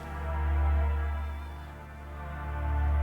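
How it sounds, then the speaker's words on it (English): Sustained orchestral strings hold a low, swelling chord that rises and falls gently, soft and continuous with no voices. "Then you can hear the strings."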